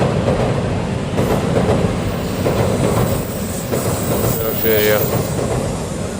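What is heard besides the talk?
Shinkansen bullet train passing in Tokyo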